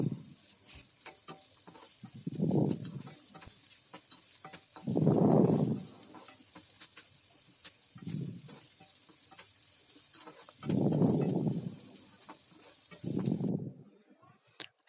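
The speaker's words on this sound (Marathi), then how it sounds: "आणि त्यामध्ये आपण कांदा, लसूण आणि मिरची एकसाथच टाकलेली आहे." Onion, garlic and green chilli frying in oil in a kadai for a fenugreek and dal dish: a steady, soft sizzle with about five louder scraping bursts as the mixture is stirred.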